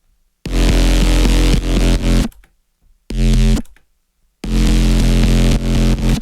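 A synth run through wave shaper saturation set to 15% dry/wet, adding sizzle, plays three loud, bright, buzzing bursts separated by silences, with no talk.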